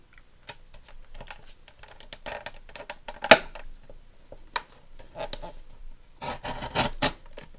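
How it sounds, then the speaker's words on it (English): A small paper trimmer slices through junk journal pages with dry scraping and clicking strokes, close and fairly quiet, with a sharper snap midway and a denser burst of rasping near the end. "So let's cut those first with my little Timmy trimmer."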